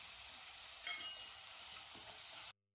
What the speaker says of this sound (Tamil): வெங்காயத்தை நல்லா வதக்கிடுங்க.